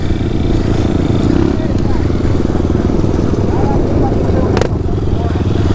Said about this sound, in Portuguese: E a moto andando ruim, oxi.